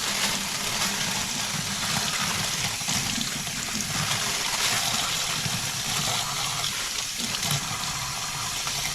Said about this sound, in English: I'll give it a rinse.